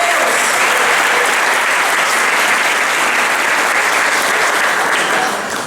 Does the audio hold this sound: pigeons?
no